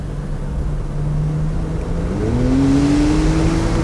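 A 2019 Porsche 911 Targa 4 GTS engine hums steadily from inside the cabin, then its revs climb sharply as the gearbox downshifts, holding a higher, louder drone afterward.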